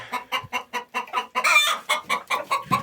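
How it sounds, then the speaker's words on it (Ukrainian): Leghorn chickens cluck in a quick, steady rhythm while feeding, close by, with a busier burst of clucking in the middle. "Кури їдять, качки йдуть їсти"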